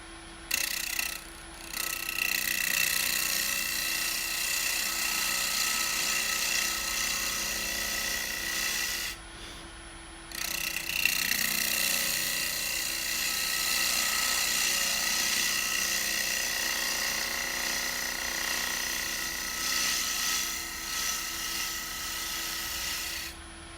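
Wood lathe turning a cedar vase, a steady whirring hum with continuous gritty cutting texture, briefly dropping out for a moment twice before the tool engages again.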